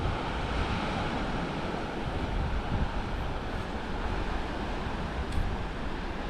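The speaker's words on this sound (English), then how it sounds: "Checking out some waves" Ocean waves break steadily on a beach along the West Coast Trail near Michigan Beach, a loud, continuous roar of surf with wind noise and no voices.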